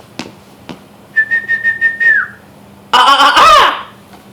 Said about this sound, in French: Ça chante, c'est un oiseau.